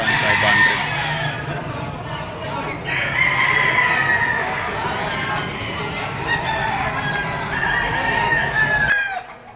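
Roosters crow repeatedly at a market in Padre Garcia, Batangas, loud and close with overlapping calls and clucking, a stag's crow among them, while someone talks beneath.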